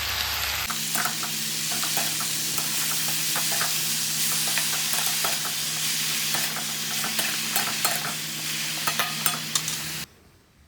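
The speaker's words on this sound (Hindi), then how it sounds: "फिर मैं यहाँ आलू बैंगन की सब्ज़ी बना रही हूँ।" Potato and eggplant curry sizzles and fries steadily in a pan, with a continuous hiss, scattered crackles and a few stirring clicks, before cutting off abruptly near the end.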